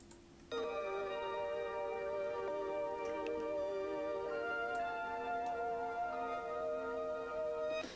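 A pitched-up ambient pad sample from a remake of a track, entering after a half-second lead-in and holding as a sustained, bright harmonic chord alone with faint clicks.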